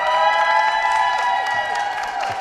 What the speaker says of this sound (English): Big clap for Seamus Ryan.